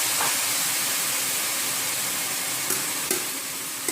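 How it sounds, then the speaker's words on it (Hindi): Boiled mashed carrots fry with almonds in a pan for carrot halwa, giving a steady close sizzle and hiss with a few soft stirring scrapes near the end. "5 से 10 मिनट तक आप इसे भूनें।"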